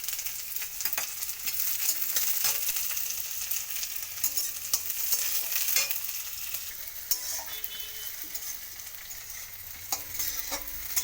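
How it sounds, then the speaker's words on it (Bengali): Chopped onion fries in a pan, giving a continuous bright sizzle with frequent sharp scrapes and taps of a stirring spoon, close and fairly quiet, with no voices. "পেঁয়াজটাকে একটু লাল লাল করে ভেজে নিচ্ছি"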